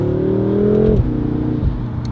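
A BMW F10 M5 with a Valvetronic Designs exhaust and OEM downpipe revs loud and close, its tone climbing, then drops sharply at each of two quick gear shifts, with a deep exhaust drone between them.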